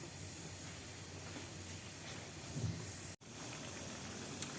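Onions and lamb fat fry in a covered pot for a lamb and pea tagine, producing a steady muffled hiss that cuts out for an instant before carrying on.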